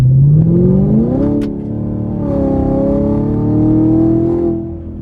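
A Chevrolet Camaro SS LT1 V8 engine accelerates hard through a gear change, its throaty modified exhaust rising in pitch, with no talking.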